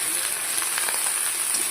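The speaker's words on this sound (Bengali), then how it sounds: "এবার ভালো করে এটাকে নাড়াবো" Bottle gourd greens with turmeric and salt are stirred in a hot pan, giving a steady close sizzle and frying hiss with faint scraping throughout.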